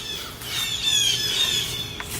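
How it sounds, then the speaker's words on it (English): Birds squawk loudly and continuously outdoors, harsh shrill calls close by with no talk, during roadside work removing Shimano bicycle cranks. "the birds will cheer you on while you do it"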